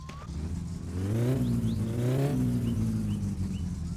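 A car engine in the game My Summer Car revs up, rising to a steady, loud drone, then easing slightly and holding a continuous rumble.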